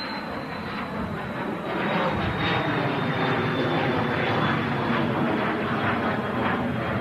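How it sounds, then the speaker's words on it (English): Aircraft taking off from Manchester, a loud sustained engine roar that swells after the first couple of seconds and holds steady, with no talk over it. "That aircraft rocketing out of Manchester."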